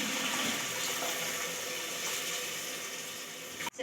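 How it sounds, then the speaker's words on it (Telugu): Tamarind water is poured into a pan of fish curry, a steady close liquid rush that eases slightly before a sudden knock at the end. "ఇప్పుడైతే చింతపండు నీళ్ళు కూడా ఇందులో యాడ్ చేసేసుకుంటున్నాను."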